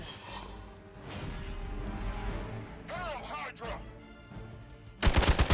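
A gunshot in Marvel Midnight Suns, a sudden loud, sharp burst that hits near the end after a stretch of game sounds and speaking voices.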